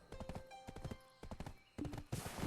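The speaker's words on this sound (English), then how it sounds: "horse." Horse hooves clip-clop in a steady, close rhythm in the video game Black Desert, with a brief whinny-like call and loud bursts toward the end.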